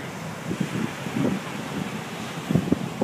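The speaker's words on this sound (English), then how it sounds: "Nice gust coming up right now." A gust of wind blows across an open microphone outdoors, a continuous rushing roar with a few stronger buffeting bursts.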